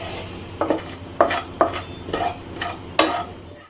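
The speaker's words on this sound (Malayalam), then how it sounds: "എന്നിട്ട് ഇത് ആ പാനിൻ്റെ ചൂടിൽ കിടന്ന് നന്നായിട്ടൊന്ന് ഫ്രൈ ചെയ്തെടുക്കും." Masala with Kashmiri chilli powder being fried in a hot pan for a Thattukada-style chicken fry: a spoon scrapes and clinks against the pan about six times at a steady pace, close up and without talk.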